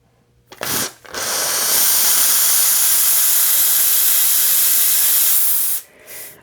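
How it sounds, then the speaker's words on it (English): An air compressor nozzle blows through the clogged coolant tube of a water-cooled CNC spindle, a brief hiss followed by a loud, steady, close rushing blast of air lasting several seconds before stopping abruptly. "Just put the compressor in and blow through."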